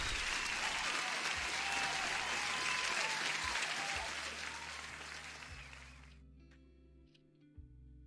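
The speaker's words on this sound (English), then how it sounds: "Oh, Miss Healthy FX, you deserve the usual applause as well." Applause during a live forex and gold trading stream, a dense burst of clapping that sounds like a sound effect, running for about six seconds before fading out, with a low electronic hum and tones underneath.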